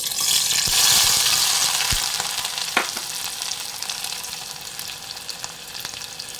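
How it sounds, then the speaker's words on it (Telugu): Onions and green chillies frying in hot oil in a pressure cooker on a stove, a loud, steady sizzle that is strongest at the start, with one or two sharp clanks and no talking. "స్టవ్ మీద కుక్కర్ పెట్టుకుని ఆయిల్ వేసుకోవాలి. సో ఇందులో ఆనియన్స్, పచ్చిమిర్చి వేసుకోవాలి."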